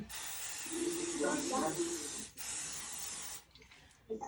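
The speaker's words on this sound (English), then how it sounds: "If you have cooking spray, you're gonna spray down the pan." Two hissing bursts of aerosol cooking spray onto a baking pan for brownies, close by, with a faint voice murmuring underneath and a few light clicks at the end.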